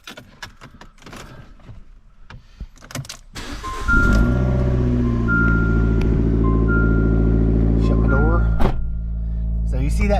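A 2016 Fiat Abarth starts up after a few quiet knocks and clicks; the engine catches loudly around four seconds and settles into a steady, strong idle with dashboard chimes over it, with a brief blip near the end.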